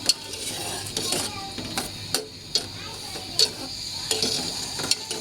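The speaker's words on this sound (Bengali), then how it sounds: "আমি নেড়ে মিশিয়ে নিব" Papaya curry cooked with mustard being stirred in a pan makes soft scraping and light sizzle, punctuated by a few distinct metallic clinks of the spoon against the pot.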